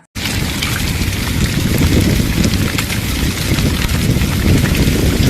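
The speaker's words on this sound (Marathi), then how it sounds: "संध्याकाळी पावसासह गारपीट" An evening hailstorm with heavy unseasonal rain over farm fields in Wardha district, with lemon-sized hailstones, makes a loud, dense, unbroken roar of pelting drops and hail that starts abruptly and never lets up.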